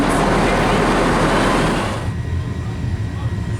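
A packed passenger train near North Allerton, with a loud rumbling rush of wheels and carriage noise that drops abruptly to a quieter hum midway, along with crowd chatter.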